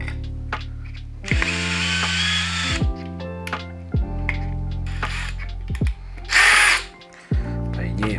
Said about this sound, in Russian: Тупое, что ли, сверло в этом месте?